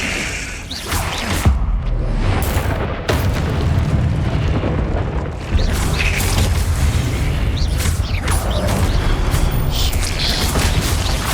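Fire-spell explosions cast in Hogwarts Legacy, a continuous loud, rumbling roar of booming bursts and crackling blasts without pause, dense and close.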